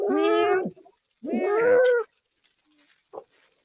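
A pet cat meows twice in drawn-out, harmonic cries, close and loud, followed by a short faint chirp after a pause.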